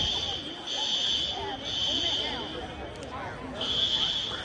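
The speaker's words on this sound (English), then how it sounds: "I don't know how the fire alarm got off" A high school fire alarm blares with a steady, piercing tone that pulses on and off, heard under continuous crowd noise and nearby talking, likely outdoors after an evacuation.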